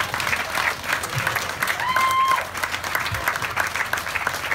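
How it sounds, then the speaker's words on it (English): An audience applauds a woman's vision at a live event, steady full clapping throughout, with a brief whistle-like tone rising above the crowd midway. "So I'd like to give her a round of applause for having this vision."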